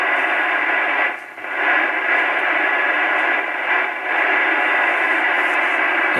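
Icom 730 receiver tuned to the 80 meter band on an indoor antenna, giving a loud, steady hiss of static and band noise with a couple of brief dips and no clear voice.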